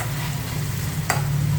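Curry leaves stirred into egg chicken curry frying in a kadai: a close, steady broadband sizzle with one brief spoon scrape partway through.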